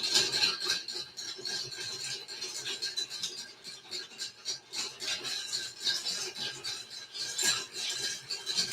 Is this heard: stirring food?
yes